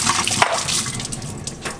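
Fresh basil, rosemary and thyme rinsed under a running kitchen tap, a steady close splash of water over the sink with no talking.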